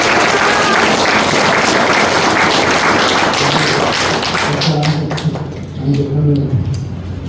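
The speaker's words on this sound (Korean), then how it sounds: "다 같이 박수 한번 쳐주세요." A church congregation at a pastor's installation service applauds together in a dense, steady wash of clapping that fades out toward the end, with voices mixed in.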